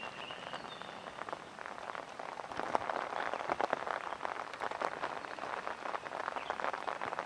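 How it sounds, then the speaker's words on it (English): Rainstorm pouring onto an eagle nest, a dense steady hiss of rain with scattered sharper drop impacts, continuous and moderately loud throughout. "Couldn't imagine being an eagle going through this storm."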